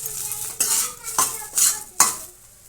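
Okra sizzles in a pan for Rayalaseema bendakaya karam while a metal spoon scrapes and stirs it in four or five quick, sharp strokes against a soft frying hiss.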